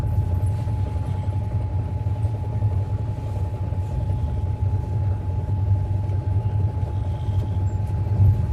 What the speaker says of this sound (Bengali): দেখো ট্রেন এখন আস্তে আস্তে যাচ্ছে।